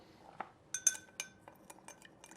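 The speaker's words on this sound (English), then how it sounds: "Now I'm going to stir this until the sugar dissolves." A spoon stirs sugar in a cocktail glass for a rum grog, producing a string of light, close metallic clinks against the glass at uneven intervals over a quiet background.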